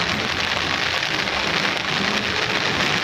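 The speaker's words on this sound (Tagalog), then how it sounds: "Nakikita po ninyo na pumapatak ang ulan." Steady rain pours down continuously in a garden, a dense hiss of drops pattering on surfaces nearby, with no voices.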